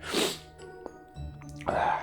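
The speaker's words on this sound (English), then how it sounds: "I'm gonna sneeze again." A single sharp sneeze bursts out at the start during a hot chili nut eating challenge, followed by a quiet pause and a second breathy burst near the end.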